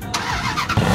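A Dodge car fitted with a custom muffler gives a brief, close engine rumble lasting about a second, swelling louder toward the end, with no talking.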